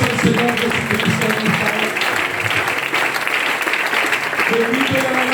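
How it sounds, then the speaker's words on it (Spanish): A church congregation applauds Jesus Christ at a Vallecas church inauguration, with steady, dense clapping that carries at full strength throughout, mixed with voices and music-like tones underneath. "Den un aplauso al Señor Jesucristo."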